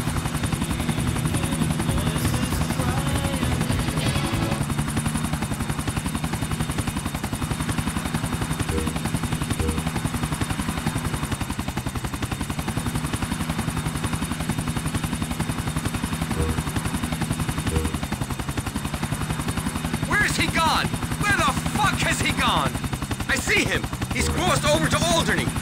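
A helicopter flying in Grand Theft Auto IV: The Ballad of Gay Tony, with a steady rotor thump and a whining engine drone that runs throughout and stays loud, while talk and some bursts of gunfire come in near the end.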